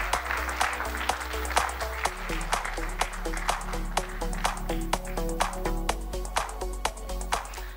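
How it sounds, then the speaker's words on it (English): Audience applause at a Rotary quiz bowl in Goa honouring the quiz master, heard as steady rhythmic clapping over loud music playing throughout. "A big round of applause to Sanat Bhai Raikar."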